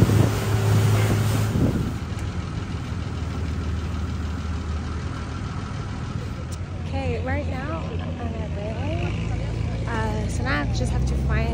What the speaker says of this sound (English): This is literally my first time on a boat.